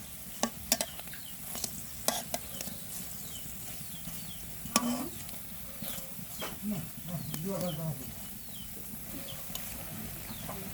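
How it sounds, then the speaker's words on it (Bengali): Drumstick flower fritters fry in hot oil with a steady soft sizzle, broken by sharp clinks and scrapes of a utensil stirring the pan, while a voice speaks faintly and farm birds call in the background. "একদম লাল লাল করে ভাজা নিছি। এখন উঠিয়ে নিব।"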